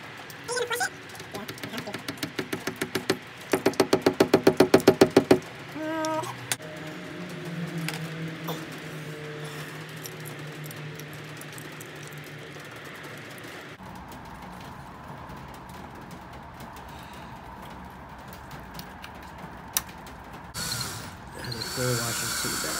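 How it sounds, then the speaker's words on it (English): A hammer drill rattles in loud rapid bursts for a few seconds while installing a Nest Hello video doorbell, then eases into a lower whir and mechanical noise as work continues. "Hammer drill."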